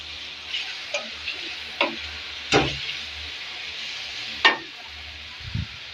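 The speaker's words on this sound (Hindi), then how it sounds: "और इन्हें 2 से 3 मिनट के लिए अच्छी तरह से भून लेंगे" Onions, chicken liver, tomatoes and ginger-garlic paste frying in a pan at home, with a steady low sizzle broken by several sharp stirring scrapes and clinks, fairly close and alone without talk.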